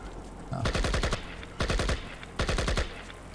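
Gunfire in the shooter game Project IGI: three rapid bursts of automatic fire, each several sharp shots, separated by short pauses and heard loud and close.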